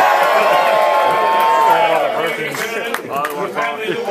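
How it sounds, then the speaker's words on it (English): Crowd cheering and shouting at a Medieval Times knighting ceremony, a loud, dense roar of many voices that swells and then breaks into scattered whoops and calls. "Raise a cheer for your son"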